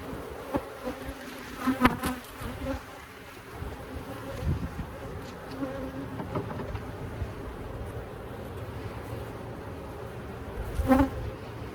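Honey bees buzz around an open hive close to the microphone, a continuous drone with individual insects swelling louder as they fly past, plus occasional wind rumble and handling bumps.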